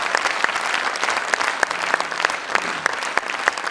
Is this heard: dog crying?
no